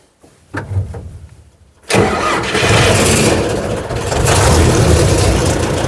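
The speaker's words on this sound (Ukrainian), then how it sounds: "І пробуємо запускати трактор." A few mechanical clicks and a grinding crank, then a heavy tractor engine catches and runs loudly at a steady, rough idle, close by.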